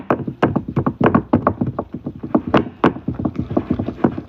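Sourdough starter is mixed with flour and water in a container, giving close, rapid wet stirring knocks and scrapes in an uneven, busy rhythm with no talk.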